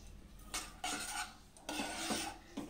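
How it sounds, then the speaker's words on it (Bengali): Chana dal being stirred with salt and sugar in a pressure cooker, giving bursts of scraping and rubbing from a spoon against the metal pot, close and fairly loud, no talking. "ডালটাকে একটু নাড়াচাড়া করে নেব, মানে লবণটা আর কি মিশিয়ে দেবো এর মধ্যে।"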